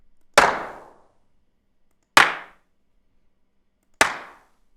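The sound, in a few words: dark live clap samples for hip hop drums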